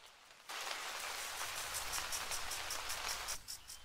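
Steady rain patters in the Harvest Days farming video game, a soft, even hiss that sets in after a brief quiet start and runs with faint insect-like chirping, no voices.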